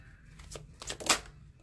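A few soft papery riffles of tarot cards being shuffled, brief and close, with a sharper flutter near the end.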